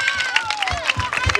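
An audience claps and cheers for a DJ, dense rapid applause mixed with crowd noise, while a voice talks over it close by.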